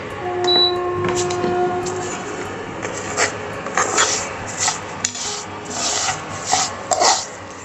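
Roasted vermicelli is scooped out of a pan for Bengali payesh, giving repeated dry scraping and rubbing strokes of a utensil against the pan, close and moderately loud, with no talking.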